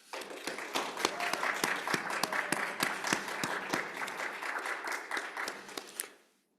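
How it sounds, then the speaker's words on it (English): An audience at a tribute performance bursts into applause, a dense, even wash of many hands clapping close and steady for several seconds before cutting off abruptly, with no talk over it. "I think it does deserve another round of applause."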